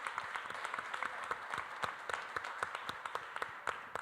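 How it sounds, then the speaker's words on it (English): A seated audience at an education summit at Laney College breaks into steady, moderately distant applause for a school district's African American Male Initiative Parent of the Year, a dense patter of clapping hands with no talk over it. "Give her a round of applause."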